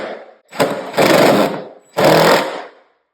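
A power driver sets a screw into a window blind bracket mounted over solid material, giving two loud whirring bursts with a brief pause between them.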